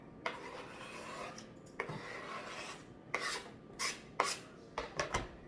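Butter scraped off a utensil into water for boxed stuffing, a series of short rasping scrapes in uneven bursts, fairly quiet and close, with no talking.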